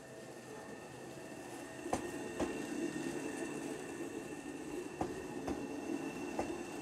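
A train on Japan's Kodomonokuni Line rumbles past at a distance with a steady low roar and periodic sharp clacks from the wheels over rail joints.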